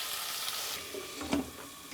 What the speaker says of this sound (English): we're just gonna leave for everything to cook down nice and slow